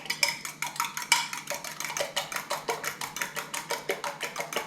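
A fork beats eggs in a bowl for a mushroom omelet, a fast steady rhythm of sharp clinking strokes against the bowl, about five per second, close and clear with no voices.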